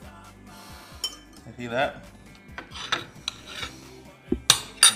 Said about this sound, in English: I'm gonna cut it up, the galo up.